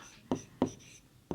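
A pen writes an answer by hand on paper, giving three short, distinct scratching strokes at irregular intervals, close and quiet with no talk.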